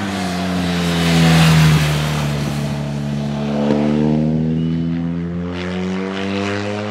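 Big-bore adventure motorcycles, including one with a 1300cc V-twin engine, pass by with a loud, steady engine drone that rises and falls as they go past, holding strong throughout.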